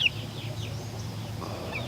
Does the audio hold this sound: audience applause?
no